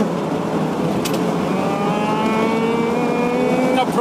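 Car engine rising steadily in pitch as it accelerates up a freeway ramp toward about 50 mph, heard from inside the cabin with a continuous roar and road noise and brief talk.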